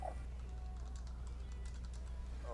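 Soft, rapid keystrokes from a computer keyboard tap away in a quiet room with a low steady hum underneath, a brief run of clicks over a couple of seconds.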